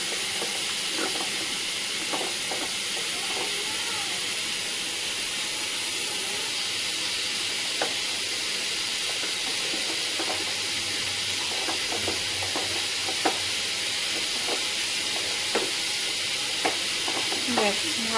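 Snake gourd fries in a pan with a steady, close sizzle and hiss, while a spoon scrapes and stirs it every second or two.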